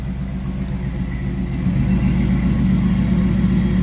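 A 1965 Chevrolet Chevelle Malibu's 350 V8 rumbles through Flowmaster exhaust, heard close from behind the car, a steady low throb that swells louder partway through and holds, with no talking.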